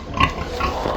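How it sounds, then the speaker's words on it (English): Pigs on a homestead grunting at feeding time, a close, steady cluster of snorts and grunts filling the whole moment with no talk over it. "Oh, we'll get you pigs taken care of too."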